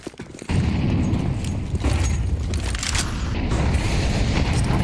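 A sniper rifle shot rings out in Counter-Strike during an ESL Pro League match between Ninjas in Pyjamas and HEROIC, followed by a loud, sustained rumble of gunfire and explosions with no talk over it.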